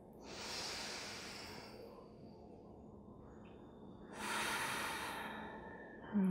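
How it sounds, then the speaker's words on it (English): Slow, deep breathing during a yoga stretch, two long, soft airy breaths heard close up with a quiet pause between them and no talk. "We'll take 5 deep breaths here."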